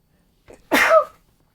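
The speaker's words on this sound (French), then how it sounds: "Avec ce temps logique, on éternue." A single sharp sneeze from a woman indoors, close and loud, preceded by a soft intake of breath and followed by silence.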